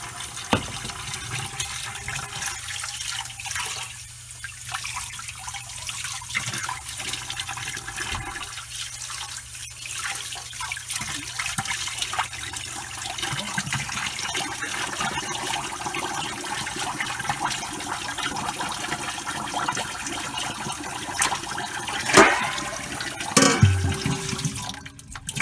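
Hot water poured over a 1998 Furby toy's removed fur skin in a sink, a steady running splash and gurgle like a draining flush throughout, with sharper sloshing bursts near the end and no talk.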